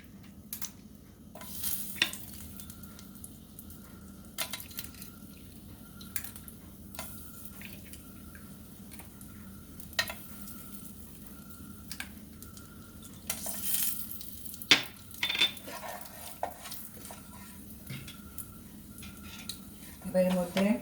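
Whole cardamom, cinnamon and cloves tempering in a generous amount of hot oil for a Bengali fish dish, a faint steady sizzle with occasional utensil clinks and scrapes, fairly quiet throughout.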